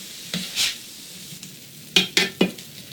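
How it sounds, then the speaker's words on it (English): Eggplant and garlic sauteing in vegetable broth in a pan give a low, quiet simmering hiss, with a few soft scrapes early and then three crisp spoon-against-pan stir strokes in quick succession near the end, close and without talk. "my eggplant and garlic is sauteing up real nice"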